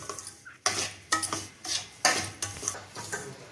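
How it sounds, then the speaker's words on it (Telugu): Semolina (rava) is stirred and roasted in a pan on low flame, heard as repeated scraping strokes of a spoon against the pan in a steady rhythm, close and without talk. "చిన్న మంట మీద మెల్లగానే వేయించుకోవాలి"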